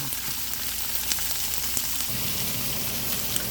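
Green peppers and onions cooking down in a little virgin olive oil, an even dense sizzle and hiss with faint ticks, steady and close throughout with no one speaking.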